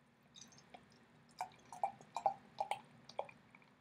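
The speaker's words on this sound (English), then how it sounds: "I poured this one pretty aggressively" Troegs Nugget Nectar, a hoppy craft beer, poured aggressively into a glass: a quiet run of small glugs and drips, irregular and close, with no talking.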